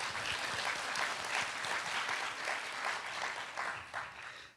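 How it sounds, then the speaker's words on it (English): Audience applause at an academic lecture on gender in politics and diplomacy, steady rapid clapping from a seated crowd that holds for several seconds before tapering off. "Maybe we should give them a small round of applause."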